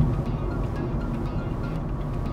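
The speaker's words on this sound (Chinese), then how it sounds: "这个轮胎声真的是安静很多，这个是上一代的车型做不到的。" Inside a moving Honda City, a low steady road and tyre roar fills the cabin, muffled and even, with no one speaking over it.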